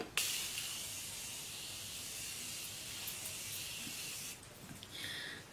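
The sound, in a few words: Morphe Continuous Spray setting spray being sprayed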